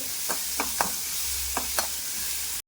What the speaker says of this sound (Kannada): ಸ್ವಲ್ಪನೇ ಎಣ್ಣೆ ಹಾಕ್ಕೊಂಡು ಕಟ್ ಮಾಡಿದಂಥ ಈರುಳ್ಳಿನ ಚಿಕ್ಕದಾಗಿ ಕಟ್ ಮಾಡಿ ಹಾಕ್ಕೋಬೇಕು. ಅದನ್ನು ಸ್ವಲ್ಪ ಫ್ರೈ ಆಗೋ ತನಕ ಹಿಂಗೆ ಹುರಿತಾ ಇರಬೇಕು